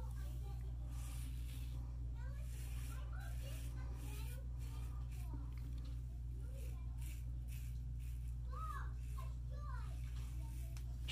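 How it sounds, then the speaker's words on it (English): Children's voices chatter and call out faintly in the distance over a steady low background rumble. "you can hear my kids in the background"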